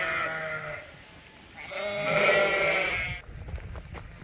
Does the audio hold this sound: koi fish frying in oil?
no